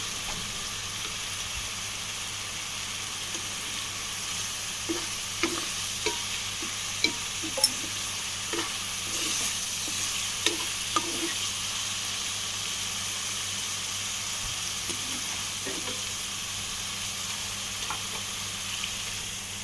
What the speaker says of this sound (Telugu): అడుగంటకుండా మనం మధ్యలో ఇలా కలుపుతూ ఉండొచ్చు.